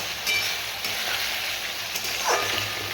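Potatoes and pointed gourd sautéing in a pan, a soft steady sizzle with an occasional light stir or scrape, fairly quiet and close.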